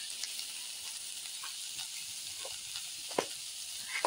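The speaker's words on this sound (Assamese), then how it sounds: "অকণমান তেলত মই এনেকৈ ফ্ৰাই কৰি ল'ম" Fish frying in a little oil with a touch of turmeric and salt, giving a steady close sizzle and hiss with a few small crackles and pops.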